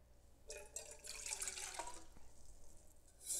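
Cold water pours from a measuring cup into a bowl of cupcake batter, a soft close splashing and trickling burst lasting a couple of seconds before tapering off, with no talk.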